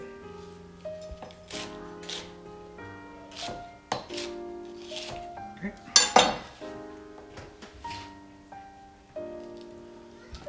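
Bell peppers cut into broad pieces on a board for a fish bake with vegetables, giving a series of crisp knife chops and clinks at an uneven pace, close by, with kitchen dish sounds between the strokes.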